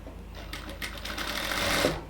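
A sewing machine stitches a lace strip onto a kameez sleeve, its steady mechanical whirr building in bursts and running continuously close by, with no talking.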